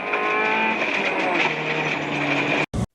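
Daihatsu Charade rally car on a slippery forest rally stage, engine droning loud and steady from on board as it holds revs, then cutting out abruptly near the end with a brief burst before silence.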